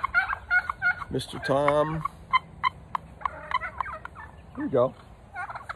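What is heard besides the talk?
pet turkey gobbling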